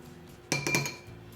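A spoon stirs lemon juice into milk in a glass for homemade buttermilk, a short cluster of quick clinks against the glass, close and quiet.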